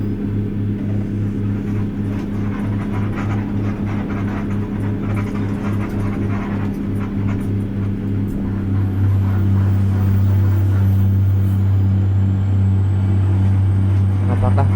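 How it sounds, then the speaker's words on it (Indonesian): A heavy Scania truck engine labours up a hill in Euro Truck Simulator 2, a loud steady low drone that deepens and grows stronger in its second half, alone without talk. "Apakah kuat truk Satsman-nya nanjak teman-teman?"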